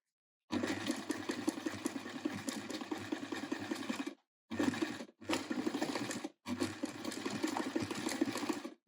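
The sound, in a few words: sewing machine stitching Waldorf doll body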